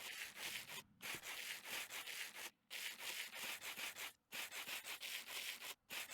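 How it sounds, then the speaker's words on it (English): Rose quartz being sanded down with sandpaper in modded Minecraft, repeated short rasping scrapes in quick bursts separated by brief silent gaps, faint and with no talking. "I'll come back in a second when all of this rose quartz is sanded down"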